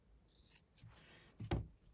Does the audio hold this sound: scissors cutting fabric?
yes